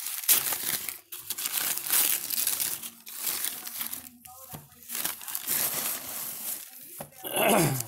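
Crinkling and tearing of tape and wrapping on a taped, wrapped trading card package, close and continuous with short pauses, louder crumpling bursts near the end.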